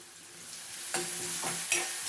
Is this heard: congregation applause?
no